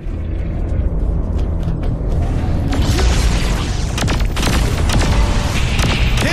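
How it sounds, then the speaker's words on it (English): Explosions rock a spaceship in the video game Saints Row 4, a loud, continuous barrage of booms, crashes and rumbling mechanical debris that builds and stays dense throughout. "With all these explosions, either it's under attack or it's coming apart."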